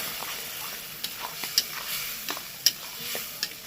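Bottle gourd greens with poppy seed paste being stirred and fried in a pan, a soft steady sizzle broken by a few light scraping clicks of the spatula, close and alone with no talk.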